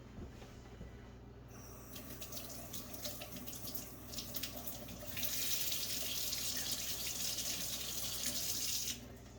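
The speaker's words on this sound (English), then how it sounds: "you just rinse it off with some water." Tap water runs into a sink as a piece of silver jewelry is rinsed under it, a steady close stream that turns louder and brighter about halfway through, with no voices.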